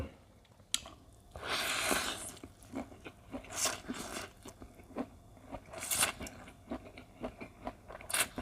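Close, quiet crunching and wet chewing bites of wakame seaweed eaten with Thai rice noodles in fermented fish sauce, coming as irregular soft bursts with no talking.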